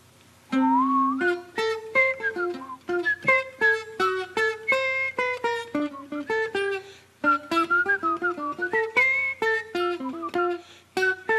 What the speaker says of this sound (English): I'm going to whistle along just a little bit as I play